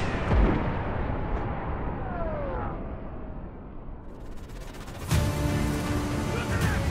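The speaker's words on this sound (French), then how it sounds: "Le tout dans le fracas assourdissant des explosions et des balles qui" D-Day beach battle effects from the Normandy landings, with deep booming explosions and crackling gunfire under a rumbling din, then a sharp loud blast near the end.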